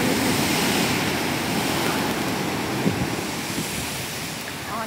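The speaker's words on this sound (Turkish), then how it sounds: "Çok büyük dalga geliyor çünkü." Large, rough sea waves crash and wash up onto the shore near a beach shower, making a loud, continuous roar of surf mixed with wind noise on the microphone.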